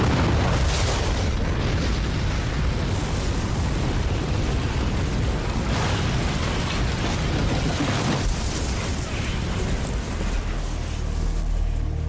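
The bombing of the nine-story Murrah federal building in Oklahoma City is a loud, sustained, roaring blast of broadband noise with heavy rumbling and debris-like surges, lasting many seconds without letting up.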